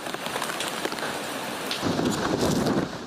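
Heavy rain from Super Typhoon Ragasa lashes down in a loud, dense roar in Hong Kong, swelling stronger partway through.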